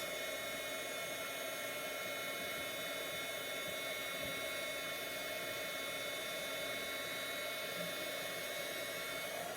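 A hair dryer blows steadily over a paper craft project. The airy whir is continuous and even, held close and constant for the whole stretch, with no talking.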